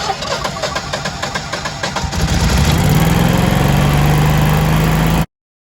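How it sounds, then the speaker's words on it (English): A Generac standby generator cranks with a rapid starter chatter for about two seconds, then catches and settles into a loud, steady engine run with a constant hum, close by, before cutting off abruptly. "we'll go ahead and start it and just see how the battery sounds."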